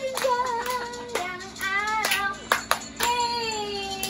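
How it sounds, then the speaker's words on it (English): Baby clapping hands at a 14-month birthday celebration, a few sharp nearby claps amid excited adult voices and cheerful chatter. "clap your hands, baby"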